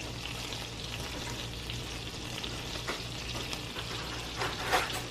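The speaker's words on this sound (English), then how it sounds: "now that you've got your butter just about totally dissolved, or melted rather" Butter melts and sizzles in a pan, a close, steady crackling hiss with a low hum underneath and a brief louder flare near the end.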